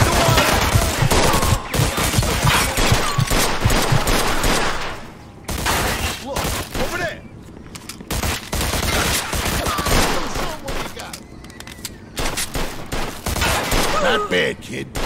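A shootout in the Mafia II game: loud, sustained volleys of overlapping gunshots, near and rapid, briefly thinning before erupting again, with shouted voices mixed in.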